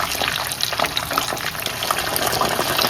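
Egg rolls frying in a pan of hot oil, a dense bubbling crackle with scattered sharp pops and sputters, close and fairly loud, no voices.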